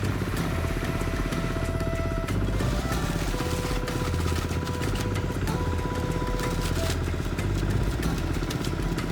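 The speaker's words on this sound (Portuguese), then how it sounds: "O funcionamento do triturador é a base da combustão, utilizando como fonte de tração um pequeno motor adaptado para o procedimento." A shredder driven by a small adapted motor runs steadily, a loud continuous mechanical drone with rattling clatter and a few whining tones, close by and unbroken for the whole stretch.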